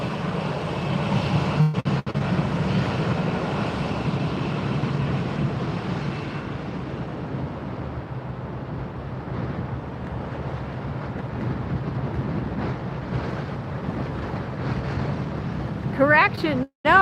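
A DC-3 cargo plane of Florida Air Cargo takes off at Fort Lauderdale, its piston engines producing a loud, sustained low roar that slowly fades with wind noise on the microphone, and a voice briefly speaks near the start.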